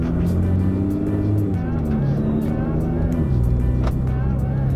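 An 800 hp Nissan GT-R sports car drives with a loud, steady engine drone whose pitch shifts between gears, heard from inside throughout.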